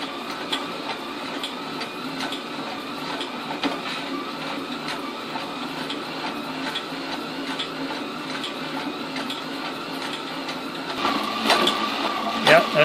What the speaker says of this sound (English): that's a wooden pulley with a serpentine belt.